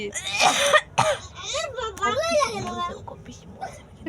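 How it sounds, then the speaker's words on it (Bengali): A child coughs and sobs at once, a close, loud burst of crying broken by coughs, with a wailing, wavering cry running through the rest. "ও দেখ কান্না করতে করতে কাশি উঠে গেছে পিসি"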